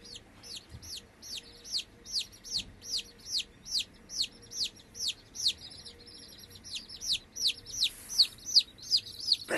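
Baby chicks chirp in a steady series of high, loud peeps, roughly two per second, close to the listener, with no talking.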